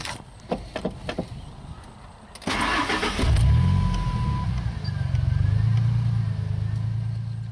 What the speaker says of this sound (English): the light will turn off as soon as you crank the car